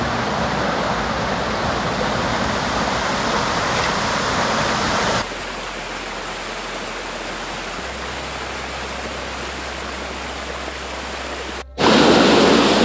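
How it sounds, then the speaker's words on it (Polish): A waterfall roaring up close, a loud, dense, unbroken rush of falling water that drops in level partway through and surges again near the end, with no voices. "jesteśmy przy samym wodospadzie"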